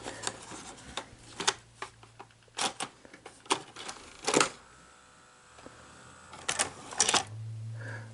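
A faulty Sony SL-HF2000 VCR fails to load a tape, producing scattered mechanical clicks and clunks at uneven intervals, followed by a low steady hum from the machine near the end.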